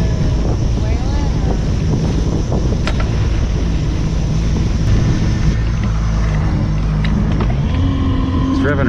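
A new Mercury outboard boat motor runs steadily at high rpm with a constant loud drone, while wind buffets the microphone and a voice talks over it.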